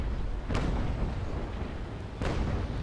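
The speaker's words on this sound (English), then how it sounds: "align my cannons, and let's see, ranging shot" A naval cannon in the Naval Action sailing-warship game fires a ranging shot, with two sharp booming reports about two seconds apart over a constant roar of wind and sea.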